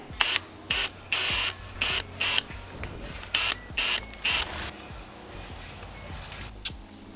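Small screw being fitted to a K20 oil pump during a K24 swap on an EG Civic: a run of sharp, clustered metallic clicks and ratcheting bursts, close up, with short pauses between them and no talk.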